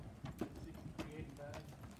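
A Belgian gelding, about 20 years old and 16 hands, straight off an Amish farm and at a horse auction, makes faint hooves clip-clopping in a few uneven steps on a hard floor.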